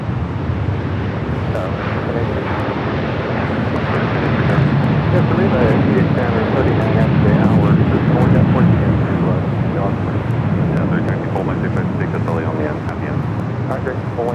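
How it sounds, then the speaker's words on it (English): An Airbus A350-1000 jet departs LAX for Tokyo Haneda, its broad engine roar steady and loud throughout and swelling in the middle, with wind buffeting the microphone and a voice talking over it. "It's Flight 15 heading back to Tokyo Haneda in that A350 1000."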